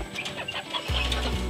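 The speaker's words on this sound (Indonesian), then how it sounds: "Ini adalah ayam Elba, satu-satunya jantan" A sick Elba rooster, the only male in the flock and recovering from a rainy-season illness, gives short close clucks and a drawn-out vocal call, loud and alone with no talk.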